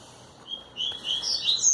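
Small birds give thin, high chirps that grow busier and louder over a couple of seconds, near and without any voices.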